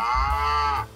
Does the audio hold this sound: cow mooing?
yes